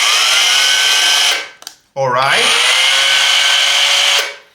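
Parkside PKHAP 20V cordless hammer drill running with a loud, close, high motor whine, stopping briefly, then spinning up again with a rising pitch sweep and running until it cuts out; a voice speaks briefly during the pause.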